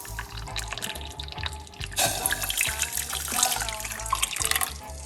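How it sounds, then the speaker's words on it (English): Hot water poured into a cup for parsley and lemon tea, a steady splashing trickle that grows fuller and brighter halfway through, heard close up with a low hum beneath. "I'm gonna measure out the hot water."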